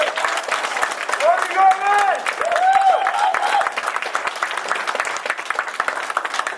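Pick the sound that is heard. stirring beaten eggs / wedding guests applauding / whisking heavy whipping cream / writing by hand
wedding guests applauding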